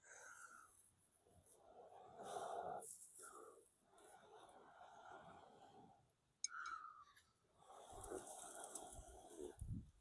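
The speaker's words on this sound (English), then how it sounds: "I'm just going to keep feeding this with my breath." Breath blown in repeated long, rough puffs onto a glowing ember inside a dry tinder bundle, each gust followed by a pause and an inhale. The blowing is close and breathy, with a voice speaking between the breaths.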